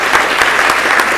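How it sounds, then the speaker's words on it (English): Audience applause at a school district board meeting: steady, dense clapping from a roomful of people, fairly close and loud, filling the whole short stretch with no talk over it. "So let's hear a big round of applause for Mrs. Kimberly."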